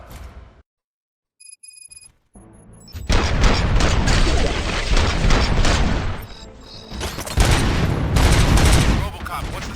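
Bursts of game gunfire in RoboCop: Rogue City erupt after a brief electronic chime, rapid dense volleys, loud and close, continuing for several seconds with a short lull between bursts.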